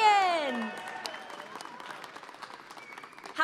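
Loud applause and clapping from a large crowd at the Pokemon VGC Masters championship final of the 2020 Oceania International Championships, starting with a voice and swelling, then continuing as steady dense clapping.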